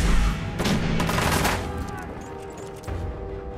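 Gunfire from the video game Fallout 4: a dense burst of shots fills the first second and a half, then trails off, with a single further shot near the end. The bursts are loud and close.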